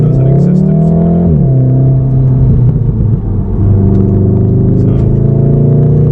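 A VW Golf R MK7.5 in race mode with a CTS turbo intake accelerates hard, its engine a loud, close, droning rumble that climbs in pitch, drops at a gear change and climbs again, while a voice speaks briefly over it.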